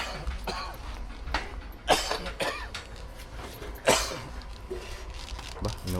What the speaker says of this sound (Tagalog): inuubo yata yung ating ano, architect